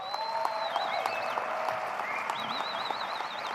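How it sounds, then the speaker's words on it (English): An audience at a student convocation applauds and cheers in a steady, dense wash of clapping, with a few high whistles cutting through. "I want a lot of cheering from the colleges that they're in"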